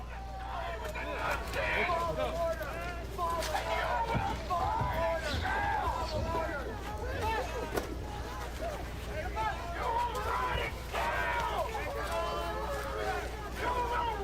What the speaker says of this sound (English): This is riotous at this point. People are screaming